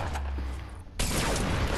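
Rapid automatic fire from a turret in Fortnite, a dense, loud burst that drops briefly and then resumes at full force, sustained and close.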